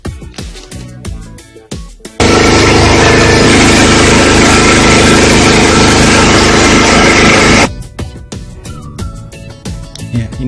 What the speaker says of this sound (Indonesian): kita langsung coba mengukur getaran dari mesin diesel